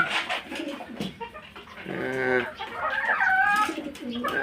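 Pigeons coo in low, rounded, repeating calls, fairly close, with other birds chirping and faint background noise mixed in.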